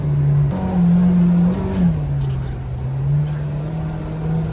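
A Kawasaki Ridge side-by-side utility vehicle's four-cylinder engine drones steadily while driving, a smooth low hum that rises briefly in pitch around a gear or throttle change and then settles, close and continuous with no talk.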